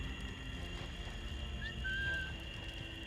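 Short whistle sounding in the Assassin's Creed Black Flag video game, a brief rising then level tone over a low background ambience, with no voices.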